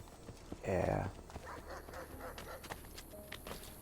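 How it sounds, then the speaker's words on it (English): Dogs bark in the game Assassin's Creed Brotherhood, one loud, near burst early on followed by fainter, scattered barks and background game sounds. "You still hear the dogs barking in this section, even though we took care of that situation."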